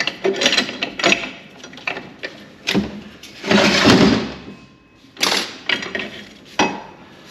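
An aluminum planetary gearset from a Mopar 727 transmission is handled up close, with repeated metallic clinks, rattles and ratcheting clatters in irregular bursts.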